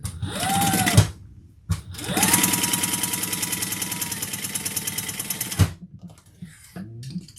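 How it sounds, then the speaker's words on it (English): A sewing machine runs in two bursts, basting fabric flat with a long stitch, a close, steady whirring hum that starts, stops briefly, then runs for several seconds before cutting off. "we're going to turn that over and sew that, just baste it flat"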